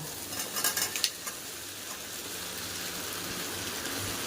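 Jackfruit fries with spice paste in a pan, a steady loud sizzle broken early by a few clattering knocks of stirring, then settling into continuous hiss.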